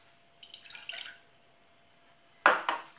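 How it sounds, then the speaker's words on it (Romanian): Water is poured into a pot while making syrup for apple-cinnamon zefir, heard as a short, soft splashing trickle and then a brighter, louder double splash a moment later, close by in a quiet kitchen. "pune apa într-un vas"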